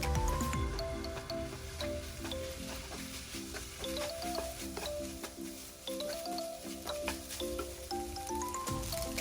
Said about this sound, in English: Mix it well together.